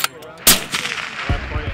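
A single sharp, loud report from a rifle on the range at an Army sniper school, likely an M107, with a duller echo and lower thuds trailing after it; no talking.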